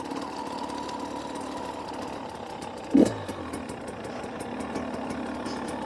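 A motorcycle engine lugs steadily at low revs through a camping area near Quartzsite, a continuous low putter throughout with one brief louder thump around the middle.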